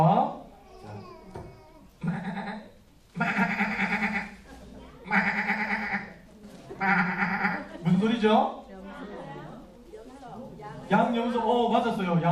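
A voice imitates sheep and goat bleating in a series of loud, wavering bleats with short pauses between them, and he asks a brief question.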